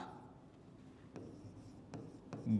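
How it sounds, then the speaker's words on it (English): A pen writes a German sentence by hand on paper, with soft scratching strokes and a few sharp taps as it touches down, faint and close beneath quiet room tone. "now, if I write this sentence"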